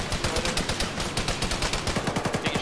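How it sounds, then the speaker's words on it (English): Rapid automatic gunfire sounds in a military video game, a loud, close burst of steady repeated shots lasting the whole few seconds. "Where are they firing from?"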